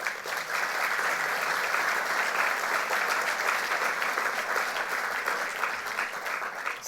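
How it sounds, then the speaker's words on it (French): Sustained audience applause at a graduation ceremony, a dense, even wash of many hands clapping that holds steady throughout at moderate level. "Je voudrais qu'on les applaudisse."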